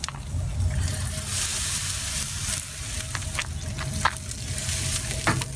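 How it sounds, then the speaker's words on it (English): Liquid is spritzed onto a ham smoking on a Pit Boss Kamado grill. A steady close sizzle runs throughout, with several brief spray bursts cutting through the hiss. "I want to spritz this down just to get a little bit of moisture on here"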